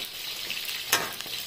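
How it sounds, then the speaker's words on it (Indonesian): Finely sliced seasoning ingredients for chicken noodles fry in hot oil with a steady close sizzle, broken by a brief louder crackle as they are stirred. "Ini semua saya goreng, saya hiris halus, hiris-hiris, lepas tu saya goreng."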